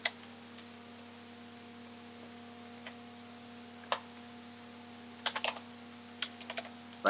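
Computer keyboard tapped in a quiet room with steady electrical hum, sparse single keystrokes followed by a few quick clustered taps, soft and close.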